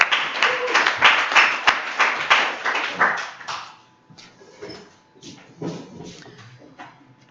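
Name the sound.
applause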